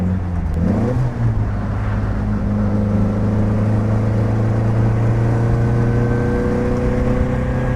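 A 1967 Morgan Plus 4 Super Sport on the road, its engine droning steadily and loudly with a brief rev change near the start, then a constant hum and road roar throughout.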